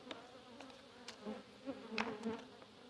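Honeybees buzz in an open hive during a frame inspection, a soft, steady hum with individual bees droning past now and then, faint and close.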